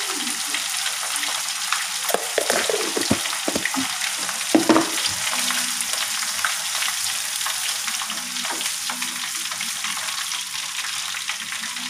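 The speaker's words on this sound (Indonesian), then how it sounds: "Aduk-aduk guys." Food fries in a home kitchen pan with a constant close sizzle, while a utensil stirs and scrapes with a few sharp knocks early on; no talk over it.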